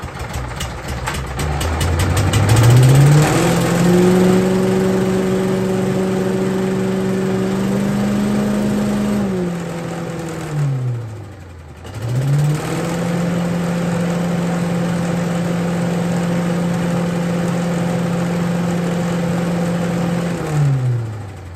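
A Billy Goat small petrol engine, previously a non-runner, starts and runs with a chugging throb, revs up and holds steady, dips almost to stalling, then picks back up and runs smoothly at a constant pitch, loud and close.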